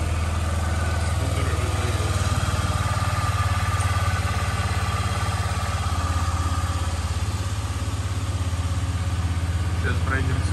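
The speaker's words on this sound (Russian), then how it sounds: "Так, запустим двигатель." A Honda Dio Z4 scooter engine starts and settles into a steady, close idle with a light mechanical clatter, while someone talks over it.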